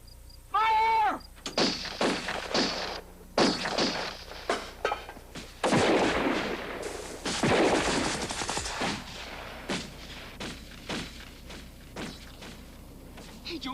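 105 mm artillery firing in an 1980s TV action feature, a string of sharp booming shots and thuds at irregular intervals, some rapid and overlapping, loud against a quieter background.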